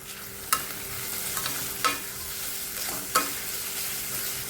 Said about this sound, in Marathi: ढोबळी मिरची आपल्याला छान अशी परतून घ्यायची आहे